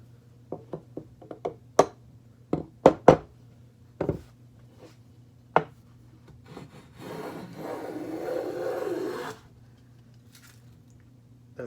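A wood plane is worked on a board to take a fine, translucent shaving. A scatter of sharp wooden knocks and taps comes first, then one soft, rasping stroke lasting about two seconds, all close and fairly quiet.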